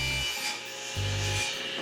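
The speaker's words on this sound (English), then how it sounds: "And now I will trim it off with a table saw to length" A table saw cuts wooden cornice trim to length in two short bursts of loud, grinding rasp with a pause between, close and without voices.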